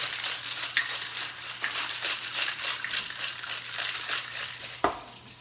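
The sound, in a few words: shaking a tequila cocktail mixture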